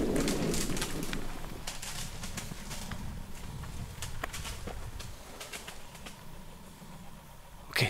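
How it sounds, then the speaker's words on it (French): Birds call in the dense forest of Brocéliande, cooing like pigeons or doves at a moderate distance, with short, scattered clicks and crackles over a steady outdoor background and no speech. "Ok, des oiseaux"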